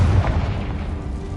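A Confringo fire spell bursts in the video game Hogwarts Legacy, one short booming blast with a rumbling low tail, loud and alone.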